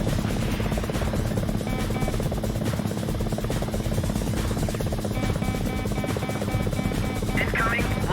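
An enemy helicopter flies in the PlayStation game Gunship, its dense rotor drone loud and continuous for several seconds alongside game sound effects and cockpit warning tones.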